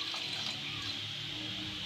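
Water is poured into sugar in a pan to make syrup for a carrot Swiss roll, giving a steady, soft trickling splash that runs throughout at low volume.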